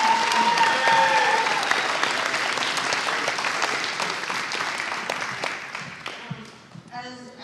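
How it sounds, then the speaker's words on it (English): Steady audience applause at a Catholic schools spelling bee in Brevard County, loud at first and slowly thinning out, with a few separate claps and faint crowd murmur as it dies away toward the end. "Let's give a big round of applause."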